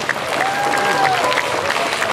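A crowd applauds a brass band steadily at an ethno music festival concert, dense clapping filling the space, with a brief sustained tone sounding over it.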